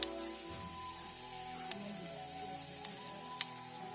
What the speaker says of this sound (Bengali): আমি এখানে দিয়ে দেবো হাফ স্পুন মতো পাঁচ ফোড়ন আর দুটো শুকনো লঙ্কা যেহেতু তেলটা আমার গরম আছে তাই কিন্তু ফুটতে বেশিক্ষণ টাইম নেবে না